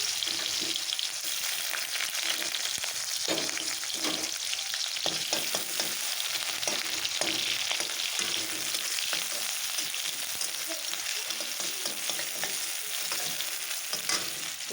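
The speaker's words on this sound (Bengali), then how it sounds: "পেঁয়াজটা আমার ভাজা হতে থাক" Onions fry in oil with a constant crackling sizzle, punctuated by soft stirring scrapes throughout, with no voices.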